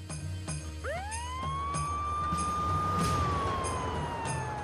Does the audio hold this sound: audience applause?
no